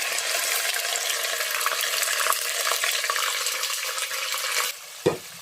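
Boiled pepper fries in oil in a pot for egusi soup, giving a loud, continuous close sizzle with bubbling crackle, ending with a brief clank.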